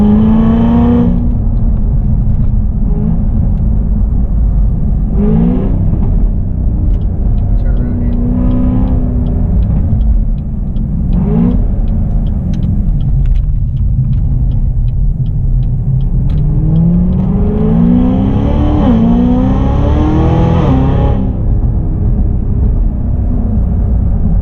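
A supercharged 2016 Cadillac CTS-V engine roars and rumbles steadily, with throttle blips rising and falling in pitch and a faint high supercharger whine riding above the exhaust.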